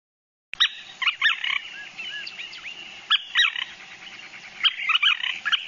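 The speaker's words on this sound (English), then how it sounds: "let's listen to this bird." A wild bird gives repeated nasal, high-pitched squeaks, each followed by a short trill, in three close, clear bursts with no talking.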